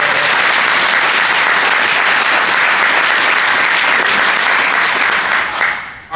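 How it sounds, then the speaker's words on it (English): An audience at a hotel gathering of the Massachusetts AFL-CIO applauds the hotel workers and wait staff, loud dense sustained clapping from a large crowd that fades out at the end. "can we give a round of applause for the workers, the staff, the wait staff, everybody here at this hotel"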